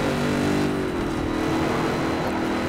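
A Boss V8 race car in Project CARS at Bathurst, driven with a manual H-pattern shifter, roars loudly and steadily close up, its engine pitch sliding down through a gear change before holding at high revs.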